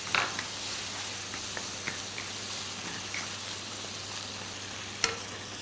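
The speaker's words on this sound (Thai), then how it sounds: "ผัดให้หอมให้ปลาร้าสุกเลยค่ะ" Chopped fermented fish (pla ra) stir-fried in a pan makes a continuous close sizzle, with soft scattered taps of a utensil against the pan and one sharper knock near the end.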